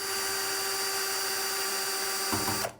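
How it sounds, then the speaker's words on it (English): A powered Phillips head screwdriver whirs steadily and loudly while removing screws from a VBM Lollo single-group heat-exchanger espresso machine, running continuously before winding down at the end. "Have a Phillips head screwdriver."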